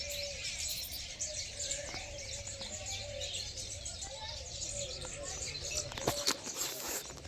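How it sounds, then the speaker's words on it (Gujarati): Sparrows chirp in short, faint bursts over a quiet outdoor background with a low hum and occasional taps. "મસ્ત ચકલાનો અવાજ આવી રહ્યો છે"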